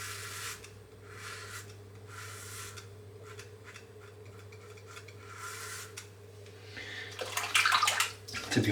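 Running water rinses lather from a shaving brush in bursts of splashy hiss that come and go, over a low steady hum, growing louder and messier at the end.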